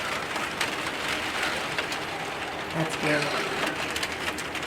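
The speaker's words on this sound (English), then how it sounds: "I love this rain sound." Steady rain hisses throughout, with a short burst of speech partway through and a few faint bird-like notes in the background.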